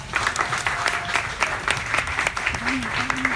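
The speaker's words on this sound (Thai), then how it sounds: "ขอเสียงปรบมือต้อนรับพี่บอยทงกลเกียรติวีรวันครับ" An audience applauds to welcome a host at a press conference for a stage musical at a Bangkok theatre. Steady, sustained clapping runs throughout, with a voice speaking over it.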